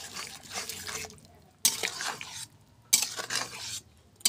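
Cumin paste stirred in a pan while cooking a fish dish in a village kitchen, giving scraping, sizzling bursts in three loud stretches split by brief quiet gaps.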